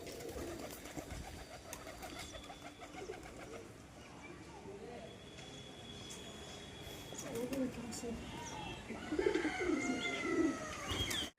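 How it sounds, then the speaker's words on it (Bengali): Pet pigeons coo and flutter while being fed grain, soft repeated cooing throughout that rises and grows louder toward the end, with a person talking in the background. "তো কবুতরগুলো সব ছেড়ে দিলাম, কবুতরগুলো এবার খেতে দিই।"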